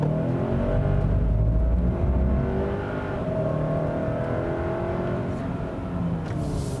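A 2022 Hyundai Santa Cruz small pickup truck driving, a steady engine hum and road rumble with slight rises in revs, heard from inside the cabin.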